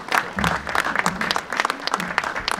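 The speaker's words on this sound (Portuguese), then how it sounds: "uma salva de palmas para esta entidade política" Clapping for the parish council rings out at an outdoor festival parade, uneven and scattered individual claps with some crowd noise, close and moderately loud for a few seconds.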